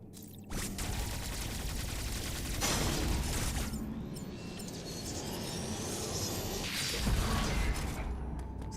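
The Omega Cannon in the video game Metroid Dread charges and fires with sustained mechanical rumbling, whooshing energy and several bursts of broadband blasts, loud and continuous throughout.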